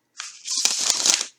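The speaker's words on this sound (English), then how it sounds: "especially riffle shuffling." Plastic tarot cards being riffle shuffled, a single close, crisp burst of rapid flicking as the two halves interleave, ending in a short settling patter.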